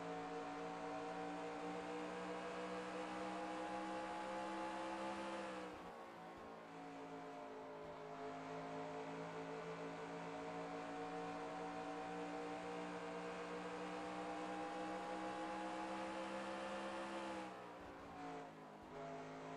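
Race cars lapping the track in the Castrol 200 round of a Qualcomm-sponsored series, a continuous loud engine drone with shifting pitch as cars pass and recede, a brief dip near the middle, no commentary over it.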